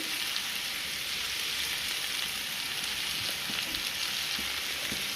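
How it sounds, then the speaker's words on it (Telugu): Sliced okra (bendakaya) fries uncovered in a pan at home, giving a steady, dense sizzle that holds evenly throughout and stays close and fairly loud with no voices over it. "అందుకనే మూత పెట్టకుండానే ఫ్రై చేసుకుందాం."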